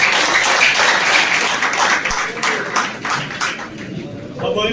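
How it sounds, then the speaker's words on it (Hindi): Audience at a pigeon tournament event in Kashmir claps heavily for an honoured guest, a dense burst of many hands that thins toward the end while a voice carries over it. "मिस्टर लाली जी के लिए जबरदस्त तालियां"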